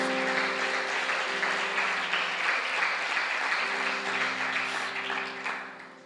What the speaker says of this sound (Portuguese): diga amém e aplauda ao Senhor Jesus mais uma vez